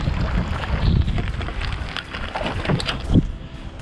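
Strong gusting stormy wind in Norway buffets the microphone, a constant rough rumble with louder bursts, no talking.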